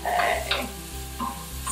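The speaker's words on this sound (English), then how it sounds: "we're just gonna saute this for a couple minutes just to kind of get that caramelization and the translucency of the onions" Chopped onions sautéing in an Instant Pot, with a soft sizzle under three or four distinct spoon stirs and scrapes against the pot, close and clear.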